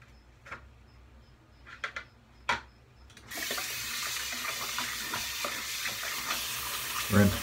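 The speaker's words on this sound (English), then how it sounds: "Rinse my hands." A tap runs steadily as hands are rinsed under it, a continuous close hiss of water that starts partway through after a few scattered handling knocks.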